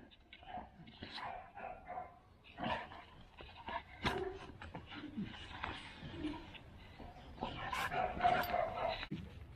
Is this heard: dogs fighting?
yes